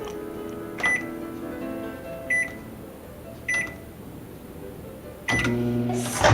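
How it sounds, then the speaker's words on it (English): Three short keypad beeps, then a microwave oven starts up heating a brownie in a mug, with a steady electrical hum, close and clear. "put it in the microwave for about 1 minute 30 seconds"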